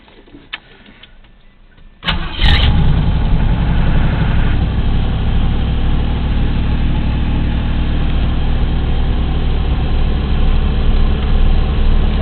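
A Mercury Comet GT fitted with Flowmaster mufflers starts and settles into a deep, loud, steady idle rumble close by, following a short quiet stretch.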